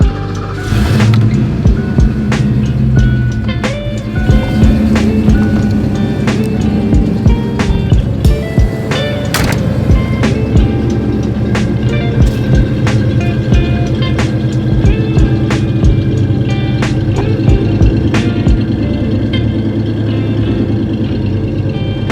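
A 32-year-old Foxbody Ford Mustang engine runs loud and close, a steady heavy rumble with repeated sharp revs throughout, no talking.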